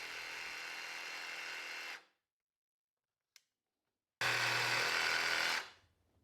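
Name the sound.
jigsaw cutting hardwood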